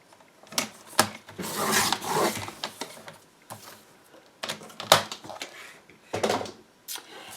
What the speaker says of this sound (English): I have a piece of cardstock here. I'm just going to trim that a little bit.